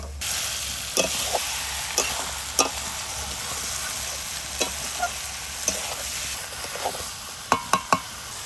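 Chicken kosha being stir-fried in a pan, a steady low sizzle with sporadic sharp scrapes and clinks of a spatula against the metal, close and alone without talk.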